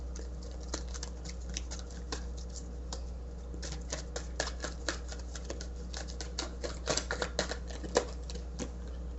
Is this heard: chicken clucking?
no